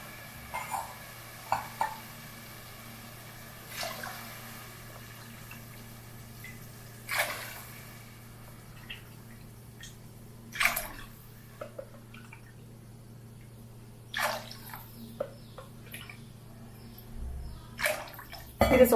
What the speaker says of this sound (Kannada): ಅದಕ್ಕೆ 6 ಕಪ್ ನೀರು ಹಾಕ್ತಾ ಇದ್ದೀನಿ.